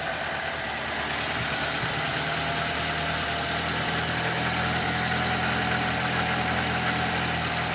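A 2007 Nissan Wingroad's QG15DE engine idles steadily with the fuel pump disconnected, a constant close mechanical hum and vibration with no talking.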